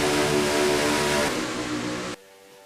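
Race car engine in a NASCAR stock car racing game screams at high RPM near 8,700 going into a turn, loud and steady with dense harmonics, then drops abruptly to a quieter hum near the end.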